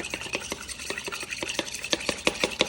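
Egg whites whisked by hand in a bowl for a high-protein cheesecake batter: quick, steady, close-up strokes with bright scraping clicks, growing more pronounced toward the end, with no talking.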